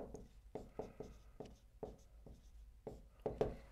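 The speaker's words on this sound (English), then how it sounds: "I'm just going to draw a sketch of the interval" Pen or marker strokes sketch a simple number line on paper, close and quiet, a series of short scratchy lines with brief pauses between them and no talking.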